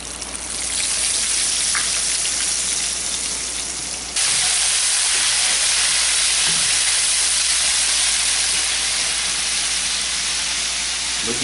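Crappie fillets frying in a pot of hot grease over an outdoor fire give a loud, steady sizzling hiss that runs unbroken, jumping a notch louder partway through, with no talking.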